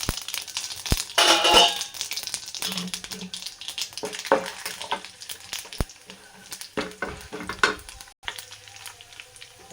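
Chana dal, urad dal and mustard seeds fry in hot oil for puffed-rice upma, with a crackling close sizzle, a spoon scraping and tapping the pan in bursts, and faint speech in the background.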